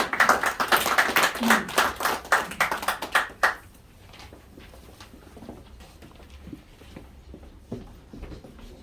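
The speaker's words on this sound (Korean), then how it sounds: "여러분 박수로 환영해" A crowd at an indoor invitational lecture claps to welcome a former lawmaker, loud rhythmic clapping for about three seconds that then stops abruptly and leaves a quiet room.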